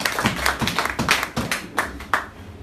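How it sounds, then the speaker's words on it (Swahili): A church congregation claps for the Lord during a bishop's Q&A session: a burst of loud, uneven handclaps in rapid irregular rhythm, close and lively, fading toward the end. "Tupigie Bwana makofi makubwa."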